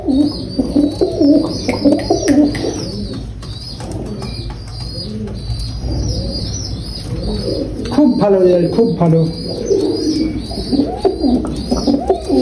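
Pigeons coo repeatedly in a collection of bred birds, their soft, rolling calls mixed with a few chirps and brief wing flaps. Someone talks intermittently over the birds.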